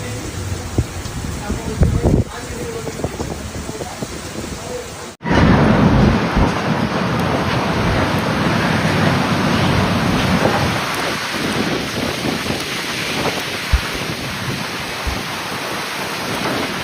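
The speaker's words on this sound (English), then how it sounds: "A relentless series of strong to severe thunderstorms hit the national capital region through the afternoon hours" A severe afternoon thunderstorm over the Ottawa region brings loud, heavy rain in a dense steady roar, with a sharp break near the start and thunder rumbling beneath the downpour.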